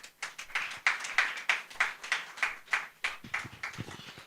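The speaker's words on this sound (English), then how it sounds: "The applause should be louder than this" Slow rhythmic clapping from a small audience after a public lecture, about a dozen distinct, evenly spaced claps, fairly faint, with a few voices near the end.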